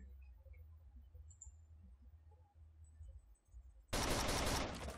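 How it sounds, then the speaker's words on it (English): In the video game Rainbow Six Vegas 2, a quiet stretch gives way to a sudden loud burst of rapid gunfire lasting about a second near the end. "I hear a lot of shooting."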